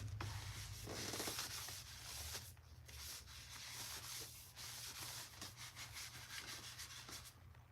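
Soft, quiet rubbing strokes come from wood pieces being wiped free of sawdust before staining, a continuous close swishing with slight pulses.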